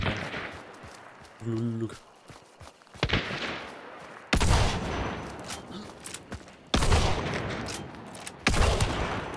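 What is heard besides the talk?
sniper gunshots in the video game Hunt: Showdown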